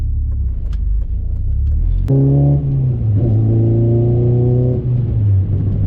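Honda Civic Si, eighth generation, with a K24A engine swap, driving along: a steady low engine drone breaks into a sharp rise in revs as the gears are shifted, then settles into a smooth humming cruise with close, loud cabin rumble and no talking.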